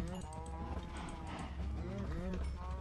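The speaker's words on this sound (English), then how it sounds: "I've got a lot of cows. They make a lot of noise." Several cows in Minecraft moo in overlapping, drawn-out calls from a crowded pen. Low game ambience sits beneath the lowing.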